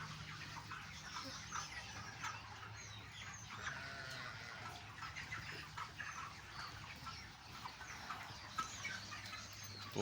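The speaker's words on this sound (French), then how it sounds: "Ça, ce sont les gros poulets." A flock of about a thousand large chickens on a farm in Senegal, continuous overlapping clucks and chatter from many birds at moderate distance, steady throughout with no talking.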